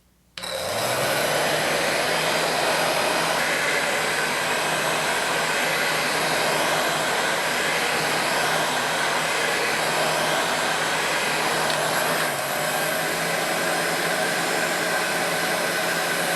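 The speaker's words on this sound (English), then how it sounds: "this heat gun is automotive grade, heavy duty" A heavy-duty automotive-grade heat gun switches on and blows a loud, steady rush of hot air while heating a phone. The blast stays continuous and close throughout.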